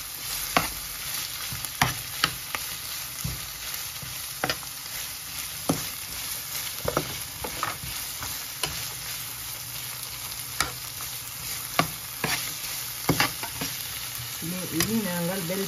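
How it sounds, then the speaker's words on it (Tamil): Bell peppers stir-fried in a pan for shell pasta with chicken: a steady sizzle with repeated sharp scrapes and clacks of the spatula against the pan, fairly close, no talking. "இனி நாங்கள் பெல் பெப்பரை சேர்ப்போம்."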